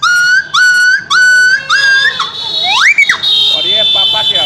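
A street seller's bamboo flute (bansuri) imitates a dog yelping after being hit by a stone: a run of short, repeated bright yelps followed by a sharp rising squeal and a sustained high whine, loud and close.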